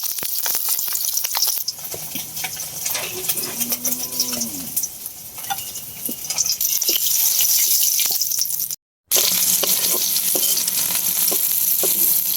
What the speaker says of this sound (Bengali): আপনার পেঁয়াজ ভাজা লইতেছে আর কি এই লাডি মাছের ভর্তার লাগিয়া, আর শুকনা মরিচ ভাজা তৈছে আগে